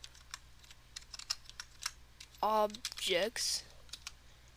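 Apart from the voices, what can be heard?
typing on a computer keyboard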